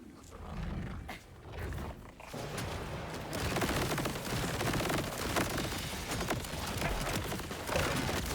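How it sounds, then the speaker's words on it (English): Plasma Coil, a Maliwan SMG in Borderlands 4, fires sustained rapid bursts amid dense game combat noise, a continuous loud clatter with no clear gaps across the whole stretch. "So it puts out a lot of bullets,"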